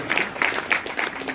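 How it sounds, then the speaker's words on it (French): Applause from an audience for a government minister at a conference, a steady wash of many hands clapping at moderate loudness with no talk over it. "Et voilà, encore plus d'applaudissements pour Monsieur le ministre."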